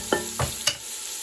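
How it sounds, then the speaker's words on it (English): Vegetables sear in olive oil in a pan for shrimp jambalaya, with three quick stirring scrapes over a soft, constant sizzle. "that my vegetables are searing"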